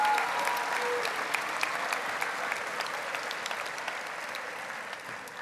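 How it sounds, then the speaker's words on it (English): A crowd applauds graduating students at the 2019 Grafton High School graduation ceremony, with dense, steady clapping that slowly tapers over several seconds and no voices on top. "Let's give another round of applause for those students."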